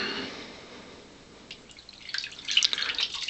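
Water drips from a wrung-out Omega boar-bristle shaving brush. The drips are irregular, sparse at first and then quicker and louder, over a soft background hiss.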